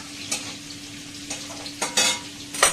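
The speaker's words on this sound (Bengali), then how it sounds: "একটু জল দিয়ে আর মাছটা দিয়ে একটুখানি কষে যাক মশলাটা" Fish in a spiced masala with a splash of water cooks in a pan, making a quiet, continuous sizzle broken by a few short scraping stirs near the end.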